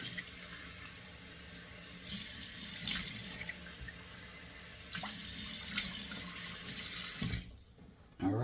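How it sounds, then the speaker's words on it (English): Cold water runs from a bathroom sink tap, a steady close hiss with splashing bursts where it is scooped and splashed, before the flow stops near the end. "2 splashes of cold water"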